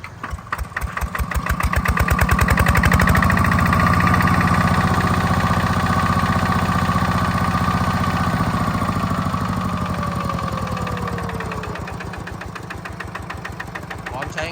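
A TF85LM walking tractor engine runs steadily, a rapid rhythmic single-cylinder chugging that swells and eases slightly, close and loud throughout, with no voices heard.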